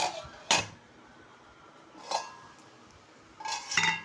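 A lid clanks onto a metal pot of okra curry with three short, sharp metallic clinks spaced apart, close and fairly quiet, with no talking.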